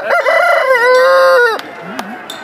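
An Aseel rooster, about two years old, crows loudly and close by, one long cock-a-doodle-doo that holds steady before breaking off, followed by a brief quieter cluck.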